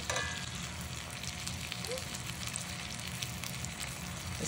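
Mandarin oranges frying in brown sugar and butter in a pan, a soft, steady sizzle at low volume with faint crackles, heard alone without talking.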